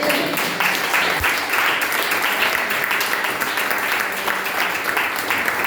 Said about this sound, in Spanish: Aleluya, dale un aplauso a Jesús.